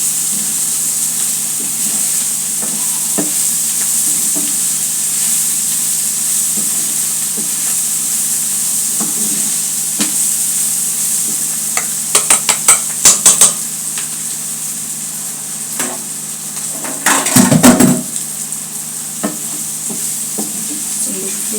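Dried icha shrimp fry in a pan under a steady broadband sizzle, with a spatula stirring and scraping against the metal in clustered bursts, loudest toward the end.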